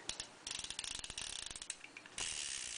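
Rapid metallic clicking from a Ruger Blackhawk .357 Magnum revolver mechanism during a function test, a fast run of ratchet-like clicks in bursts, close and crisp, with no voices.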